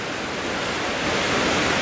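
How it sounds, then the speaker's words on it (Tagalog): Heavy rain driven by strong wind during flooding in Agusan makes a steady, broad rushing roar that swells slightly toward the end, with no voices over it. "Ang lakas ng ulan at saka dalahangin."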